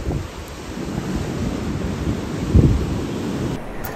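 Strong wind roars and buffets the microphone continuously, with a deep gusting rumble that swells loudest near the end.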